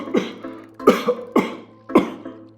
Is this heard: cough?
yes